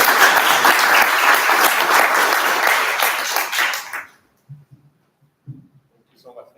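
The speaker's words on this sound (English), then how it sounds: "And a big round of applause," An audience at a fireside chat on leadership breaks into full, loud applause that holds for about four seconds, then stops abruptly into near silence with only a few faint sounds.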